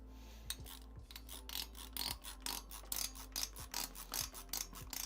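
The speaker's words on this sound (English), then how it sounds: "That noise is just the spring on these bolts to keep you from over tightening it" Spring-loaded bolts on a CPU cooler mount being tightened with a screwdriver, a close series of scratchy ratcheting clicks and rasping bursts in uneven rhythm, alone without talk.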